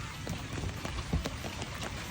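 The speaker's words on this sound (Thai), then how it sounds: "โอ้โหแล้วฝนคือแบบตกหนัก มาก" Heavy rain falling outdoors, a dense steady patter of drops with occasional louder hits, continuous and fairly close, no one speaking.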